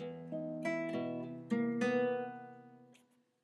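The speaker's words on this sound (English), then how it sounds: "Now the bass line with the melody is going to sound like this." Guitar plays a bass line with a melody over it, several plucked notes ringing together, then fading out to silence.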